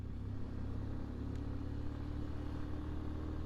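A Pulsar 125 motorcycle engine labouring uphill on a night ride, a low steady drone with a throbbing rumble, close and unbroken throughout.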